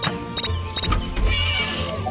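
A cat in the video game Scary Teacher meows twice in quick, clear, mid-pitched calls, followed by a softer drawn-out mew over a low rumbling game background.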